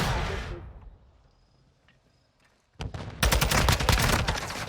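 Automatic gunfire from a Call of Duty match, a quiet lull giving way to a loud, sustained burst of rapid shots near the end, with a faint earlier shot or two.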